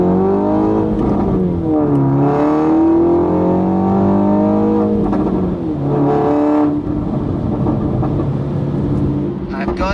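A car driving and accelerating, its engine note rising and falling through several rev sweeps, loud and close as if heard from inside the cabin, running continuously throughout.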